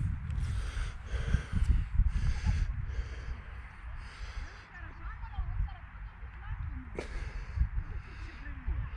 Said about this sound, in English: the heavy breathing down the camera